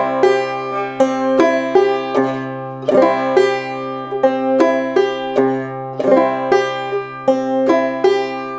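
Clawhammer banjo playing a drop-thumb pattern on Say Darling Say, plucking only the first and fifth strings: bright, ringing notes in a steady bouncing rhythm, close and solo with no voices.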